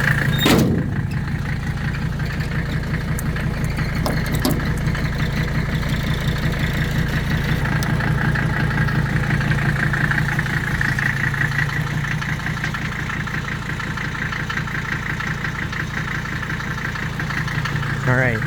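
A five-cylinder car engine idling nearby, a steady low rumble with an even throb, a brief knock or door-like clatter near the start and a voice faintly under it.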